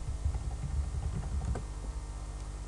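Keys tapped on a computer keyboard in a quick, uneven run of soft clicks close by, fading out after about a second and a half to a low steady hum.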